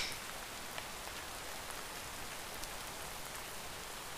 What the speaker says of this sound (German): Ich hab nur Angst vor dem Regen. Ich werde nass.